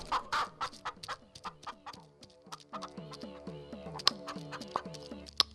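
A hen clucks repeatedly in short rhythmic bursts, close by, with occasional sharper calls mixed in.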